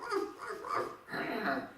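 A voice imitates the barking of village dogs chasing a big bullock cart caravan, a couple of short yelping, whimpering bursts delivered close and fairly loud.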